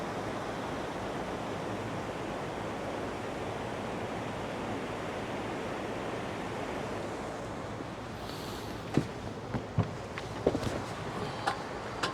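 Steady rushing water pours over the top of a waterfall at Lake Las Vegas in Henderson, Nevada, a broad continuous wash heard close by, with a few faint knocks and clicks near the end.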